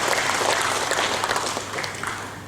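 An audience applauds during a political speech at the installation of a party's central board, a moderately loud round of clapping that thins out slightly toward the end, with no speech over it.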